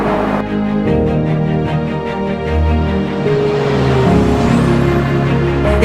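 An F4 race car at the Sabang circuit, a loud, continuous engine drone with shifting pitch as it revs and accelerates, steady and close throughout with no talking.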